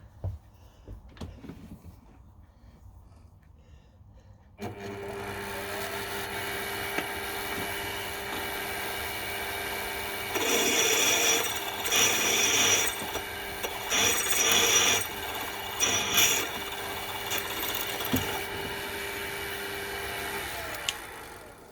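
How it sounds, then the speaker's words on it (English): Steady grinding, rasping drill noise starts after a few quiet seconds and runs continuously, growing harsher midway as a 5mm bit bites into a metal lathe chuck back plate. "I'm going to drill it with a 5mm drill first before I drill the 8mm hole."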